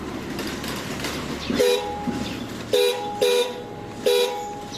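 A thin, weak, newly fitted motorcycle horn beeps four times in short bursts at close range, over quiet background noise and faint talking.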